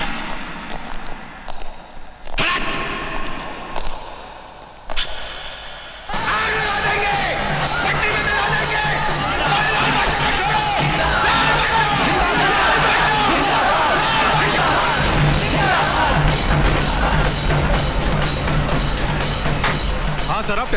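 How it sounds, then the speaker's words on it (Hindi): A crowd of people shouts outside in a film scene. After a few seconds of scattered voices, a loud, dense din of yelling and chatter builds and continues without a break. "ऐसे बाहर कुछ लोग चिल्ला रहे हैं"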